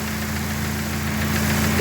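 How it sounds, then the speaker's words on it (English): A Dodge Neon stock car engine idles steadily with its cooling fan running, a close, even hum with a faint knocking pulse and a person talking over it. "So I'm going to start it up now, let it warm up, and we'll see if the fan kicks on."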